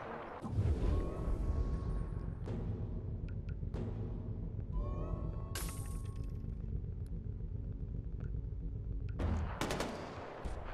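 Gunfire from the video game Far Cry 4 comes as bursts of rapid automatic shots mixed with single sharp cracks. Some are close and loud and others fall back into the distance, with a rumbling bed underneath and no talking.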